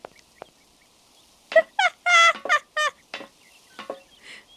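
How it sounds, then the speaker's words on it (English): Bird calls in the Syberia video game, a burst of several sharp, warbling squawks and gobble-like notes in quick succession, fairly close and clear, then a few fainter chirps trailing off. "You like the bird noises?"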